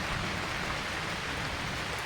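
Monsoon rain falls in a steady, hissing wash of dense noise, fairly faint and unbroken for the whole stretch, with no voices.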